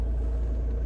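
A Vauxhall Opel Astra engine idles with a steady, low rumble that holds even and constant throughout, close by and alone, with no voices over it.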